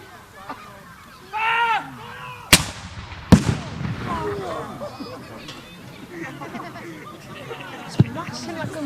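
A Pak 38 anti-tank gun fires two sharp, loud blasts about a second apart at a war weekend re-enactment event, cutting through the surrounding crowd chatter, with another faint crack later.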